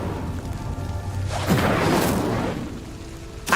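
An Incendio fire spell is cast in Hogwarts Legacy, giving a sudden whooshing burst of flame that flares and roars for about a second before easing into a crackling fade, with a second quick burst right at the end.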